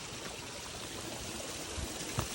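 Steady rushing water in an irrigation channel running through the Batad rice terraces in Banaue, a continuous close wash with no voices.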